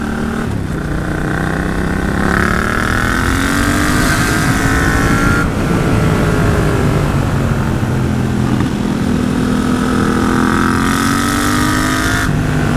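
Yamaha MT-07 motorcycle fitted with an AliExpress exhaust and a homemade dB killer, engine droning loud and close with rising and falling revs and a fairly high-pitched tone, no talk.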